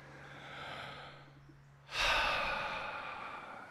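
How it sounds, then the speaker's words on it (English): A person takes a deep breath: a soft, steady inhale that eases off, then a louder, rushing exhale, close up and alone. "Let's take a deep breath."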